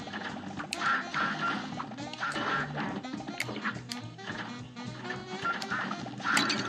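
Ducks quack over and over in a modded, very difficult video game, a dense, busy stream of nasal calls mixed with crashing and thwacking game effects, loud and continuous without talk.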